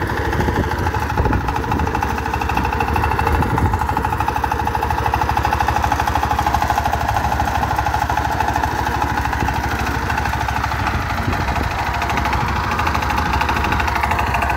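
An ACI 28 plough tilling dry vegetable-field soil, its engine running in a steady, continuous drone with a rough mechanical chatter that holds for the whole stretch, loud and close, with no talk over it.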